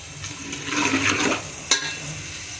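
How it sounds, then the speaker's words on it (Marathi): Water added to red chilli powder and turmeric frying in hot oil for a vegetable dalcha, giving a burst of hiss and sizzle that swells and fades, then a sharp clink. "काही लाल मिरची किंवा हे मसाले जळू नये म्हणून यात मी थोडं पाणी ॲड करते"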